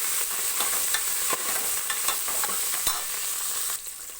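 A tempering with coriander leaves and salt fries in a pan for mutton sambar, giving a steady close sizzle with scattered crackles and stirring scrapes. The sizzle softens slightly near the end.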